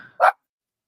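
A single short dog bark, sharp and moderately close, heard once near the start of an otherwise quiet moment during a remote conversation.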